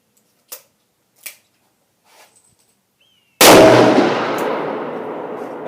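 A single heavy gunshot from an S&W 460 XVR Performance Center revolver with a 3.5-inch barrel, a sharp loud blast with a long echoing decay, preceded by a few faint clicks of handling.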